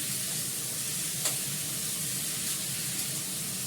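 Potatoes fry in a small amount of hot oil, giving an even, continuous sizzle close up, with one or two faint pops and no voices.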